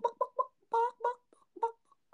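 A person imitates a hen with a quick series of clipped, throaty clucks, bursts of two or three separated by short pauses, close and fairly loud with no other sound.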